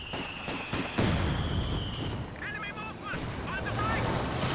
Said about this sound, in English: Well, connection from that anti-tank gun.